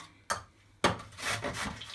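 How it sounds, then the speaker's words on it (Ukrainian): Carrot rubbed against a medium grater in a home kitchen, a short scrape followed by a longer run of rough, rhythmic grating strokes, close and fairly loud. "Тепер беремо морквиночку і натираємо її на середній терці."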